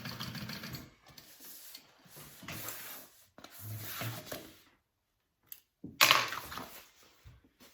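A sewing machine stitching the side panel seam of a backpack, running in several short bursts separated by brief pauses, with a sharper louder burst near the end.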